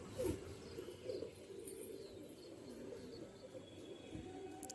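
A pair of Rajasthani Rampuri pigeons coo in soft, low, repeated phrases at close range over a steady background hiss, with a few brief higher chirps.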